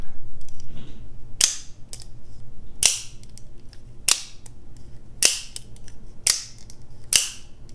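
Sharp metallic clicks and snaps as a Microtech Ultratech Tanto OTF knife blade deploys slowly, repeating about six times at uneven intervals, crisp and close, over a faint low background hum.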